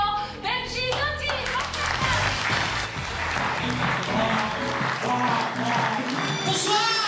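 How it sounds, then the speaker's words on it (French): An audience applauds and cheers loudly and continuously as a comedian is welcomed onto a stage, with claps and scattered voices forming a dense, steady roar that carries through the whole stretch. "je vous demande d'applaudir bien fort Benji Doty"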